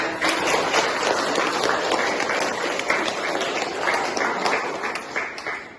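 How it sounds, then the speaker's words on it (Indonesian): A dense burst of applause from a group at a nursing-education teaching session, steady clapping filling the whole stretch without pause, loud and close. "Oke, tepuk tangan buat"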